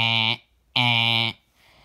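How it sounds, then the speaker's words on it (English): A loud, harsh fire alarm buzzer blares in two strong bursts with a brief gap between, then falls silent. "Making the fire alarm sound."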